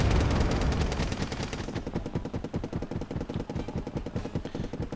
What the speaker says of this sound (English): Let's try and get these tanks taken out with artillery fire.